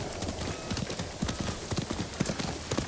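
Horse hooves clip-clop in a steady walking rhythm over terrain in the Ghost of Tsushima video game, close and moderately loud with a low background ambience.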